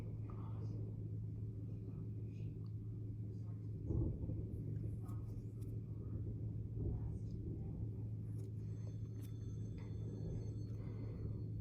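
Low thunder rumbles from a lightning storm with strong wind and rain over Frisco, Texas, a constant deep rolling drone with a couple of louder swells, heard at a distance with a speaking voice over it.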